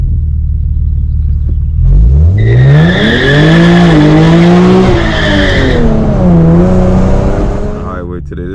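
An Infiniti G37 accelerating hard on a back road, its engine note climbing steadily in pitch over a steady rumble, loud and close, then easing off and building again.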